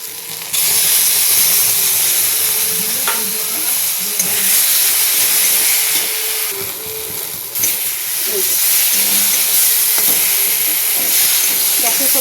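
Okra sizzles and hisses loudly in a pan with no water, a dense, steady frying roar that continues through nearly the whole stretch.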